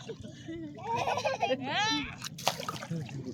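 A child splashes while swimming in the sea, with a few bright splashes and sloshing water over a busy beach background; voices chatter nearby during the splashing.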